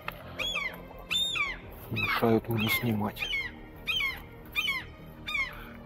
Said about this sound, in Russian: чайки очень сильно орут